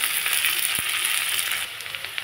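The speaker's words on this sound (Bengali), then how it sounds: "পেঁয়াজ রসুন একটু ভাজা ভাজা হয়ে গেছে।" Chopped onion and garlic fry in mustard oil with whole cumin and dried red chillies, a close, even hiss of sizzling with one small knock of a utensil partway through and no voices.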